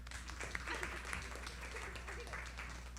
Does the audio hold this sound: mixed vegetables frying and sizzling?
no